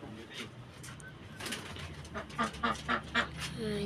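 Domestic pigeons kept for flying coo repeatedly in soft throaty bursts at close range, with a steady outdoor background and no talking.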